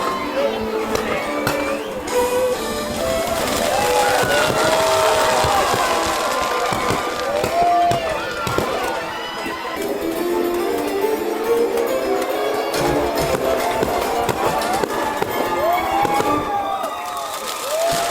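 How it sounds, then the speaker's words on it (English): Fireworks crackle and boom aboard the Disney Wish cruise ship during a Christmas sailing, a dense continuous barrage under a cheering, chattering crowd and loud festive noise. "until the fireworks go off back there"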